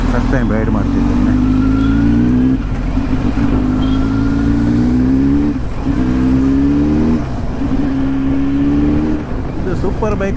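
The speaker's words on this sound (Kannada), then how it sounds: "First time super bike ride ಮಾಡ್ತಿದ್ದೇನೆ. ಫುಲ್ ಟ್ರಾಫಿಕ್ ಉಂಟು." Superbike engine revving while riding through heavy traffic, a loud steady engine drone rising and falling in pitch across several throttle swells, close to the microphone with no talk.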